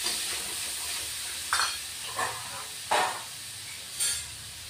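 Ginger-tomato paste sizzling in a pan for a pabda fish curry over lowered heat, with a steady hiss and four short bursts of stirring or added-paste sputter spaced about a second apart.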